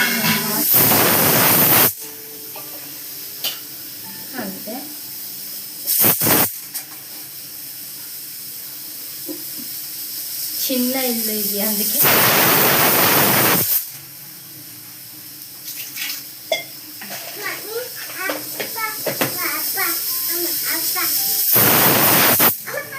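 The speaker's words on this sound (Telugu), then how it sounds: "పప్పుకి విజల్ వస్తుంది." A pressure cooker cooking dal for palak pappu in a small home kitchen lets out several loud bursts of hissing steam and whistling, each lasting a second or two. Someone talks between the bursts.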